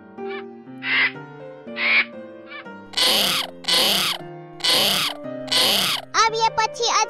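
A cartoon bird makes strange calls, about nine loud, close squawks in a row. Each is a rising and falling tone, and they grow more piercing and chattering toward the end.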